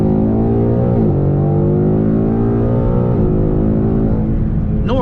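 A 2022 5.0 V8 with a 10-speed automatic pulls hard in normal mode, heard from inside the car as a loud, steady engine drone that rises in pitch, drops at each gearshift and climbs again.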